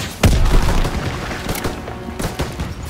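Dense, loud gunfire in Call of Duty: WWII, a World War II shooter battle, with rapid overlapping shots and booming blasts throughout, close and continuous.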